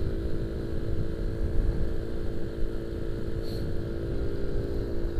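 Suzuki A100 motorcycle cruising at about 48 km/h on a touring ride, a steady close engine drone with continuous low rumble and wind noise throughout, no talking.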